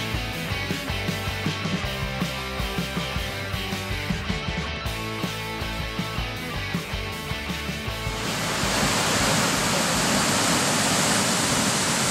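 A waterfall at the entrance to Laima park in the Baltic states makes a steady, loud broadband rush. Rhythmic music plays over it at first, then the water roar alone swells and fills the end.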